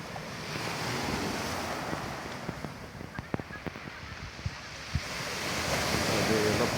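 Sea waves break and wash onto the beach at Sidi Hanifa near Mellah, a steady roaring surf with wind buffeting the microphone and a few sharp knocks partway through.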